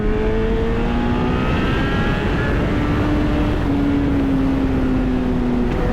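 A Yamaha FZ1N motorcycle engine rumbles and revs while riding, the pitch climbing and falling across several rising sweeps under steady wind rush, loud and close.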